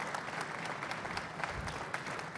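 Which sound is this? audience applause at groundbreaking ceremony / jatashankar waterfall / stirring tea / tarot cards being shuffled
audience applause at groundbreaking ceremony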